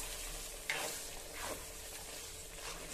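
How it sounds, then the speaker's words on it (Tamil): Fat gravy made with suthu kolupu (mutton fat) simmers and sizzles faintly in a pan as pepper is stirred in, a low steady hiss with a couple of soft scraping strokes. "நமக்கு தேவையான அளவு பெப்பர் ஆட் பண்ணி மிக்ஸ் பண்ணி விட்டுறலாங்க"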